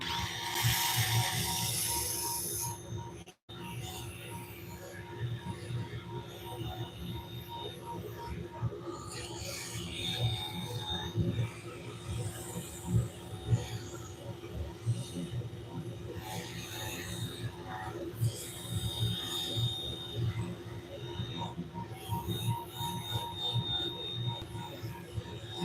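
Sandpaper pressed against a spinning wooden winged bowl on a woodturning lathe gives a soft, steady abrasive rush over the motor's low hum, swelling and easing in strokes, close by.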